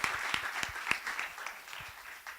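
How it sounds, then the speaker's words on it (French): An audience applauding at a French civic presentation event, a brief burst of many hands clapping with a few louder claps standing out, fading quickly and fairly distant. "Donc vraiment, encore une fois, applaudissez-les"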